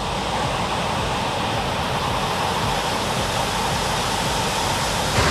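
Gullfoss waterfall in Iceland roaring steadily from nearby, a dense, unbroken rush of falling water with no pauses or voices over it.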